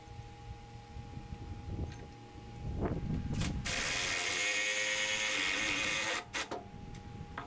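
An impact driver sinks lag bolts into heart pine while a wedding arbor is built outdoors. Short tool bursts lead into one loud, sustained whirring run of about two and a half seconds, then quieter clatter.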